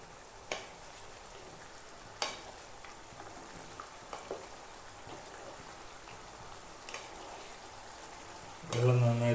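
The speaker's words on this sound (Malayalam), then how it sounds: "വെള്ളം നന്നായി തിളയ്ക്കാൻ അനുവദിക്കുക. വെള്ളം നന്നായി തിളച്ചു വരും." Water coming to a boil in a pan while chilli chicken is being made: faint, steady bubbling hiss with scattered soft pops, swelling into a louder burst of bubbling at the very end.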